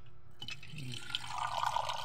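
Water is poured into a container, a short, close liquid trickle that rises into a brighter filling splash over about two seconds.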